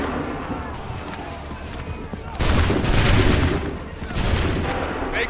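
Musket volleys from ranks of soldiers in Assassin's Creed III ring out as two loud bursts of massed gunfire, the first crashing in midway and a second following about two seconds later, over a busy battlefield din.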